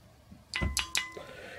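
A steel shotgun barrel, a Boucher V4, struck so it rings like a bell: a few sharp metallic strikes with a sustained clear ringing tone, moderately loud and close.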